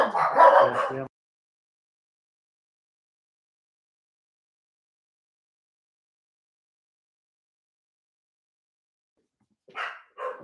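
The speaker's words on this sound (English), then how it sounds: "It's going to sound like Battersea dog sounds" Dogs bark indoors in two short bursts, one at the start and one near the end, separated by a long silence.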